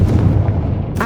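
A Confringo fire spell explodes in the Hogwarts Legacy video game, a loud, deep, rumbling boom that fills the moment up close and fades briefly.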